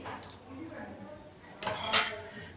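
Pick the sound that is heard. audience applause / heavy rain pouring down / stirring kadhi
stirring kadhi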